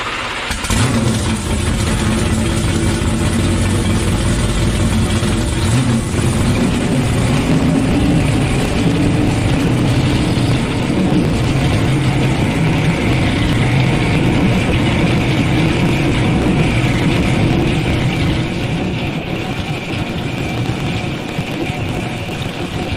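Lamborghini Huracan fitted with a 1500 hp Texas Speed LS V8 running during a heat cycle, a loud steady engine drone that holds without letup throughout, close up and alone.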